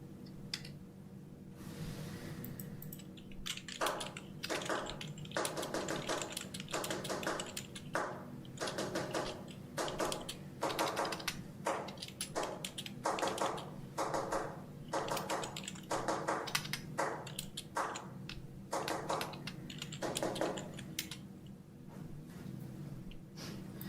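Knock code tapping from the game Her Story, a run of sharp, evenly grouped taps in a steady rhythm over a constant low background hum, close and moderately loud, with no talking.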